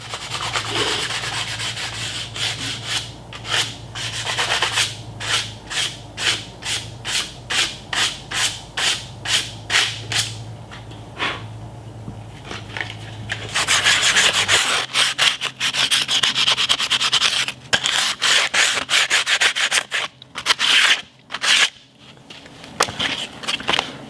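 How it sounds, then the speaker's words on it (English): Sandpaper worked by hand over the wooden stock of a Mossberg ATR 100 .270 Winchester rifle: close, rhythmic rasping strokes at first, then longer continuous rubbing with brief pauses. "Some sandpaper, just gradually sand away little by little."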